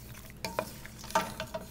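Pasta sauce being stirred in a hot pot, a few scraping strokes of the spoon against the pot with a soft sizzle underneath, fairly quiet and close with no talking.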